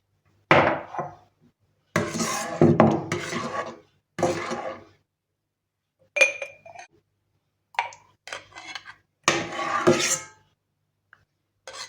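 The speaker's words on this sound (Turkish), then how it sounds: "Çilek marmelatım hazır kavanozlara yerleştireceğim." Homemade strawberry jam is spooned into glass jars, giving a series of bright clinks and knocks of a spoon against glass in irregular bursts, close and clear, with short silences between them.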